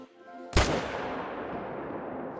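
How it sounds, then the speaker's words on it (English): A single loud rifle shot from theHunter: Call of the Wild hunting an ibex or deer cracks sharply, then rolls into a long, fading echo across open terrain. "I'm going to shoot that guy."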